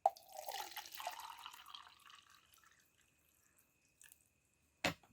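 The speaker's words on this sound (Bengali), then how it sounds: "এবং এই লেবেলের বেসিসে আমি জলটা প্রথমে দিচ্ছি।" Water poured into a steam vaporizer up to its marked level, a close splashing pour over the first two seconds that tapers off, followed by a single sharp knock near the end.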